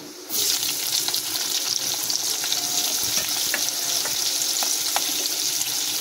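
Onion and slit green chili frying in hot oil with panch phoron in a wok, a steady close sizzle with faint scattered crackles and spatters throughout, no voices.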